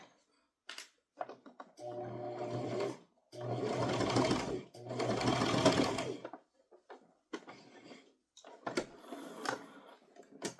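A sewing machine runs in three separate bursts while stitching a toddler's crossbody purse, nearby and fairly quiet, with soft handling clicks and rustles between the runs.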